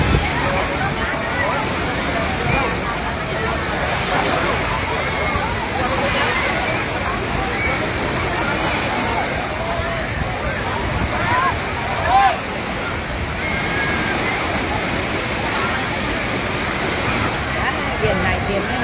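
Sea waves wash onto Hai Tien beach in Thanh Hoa on an afternoon, a steady broadband surf rush with sloshing swells that holds even across the whole stretch, with a faint murmur of distant voices underneath.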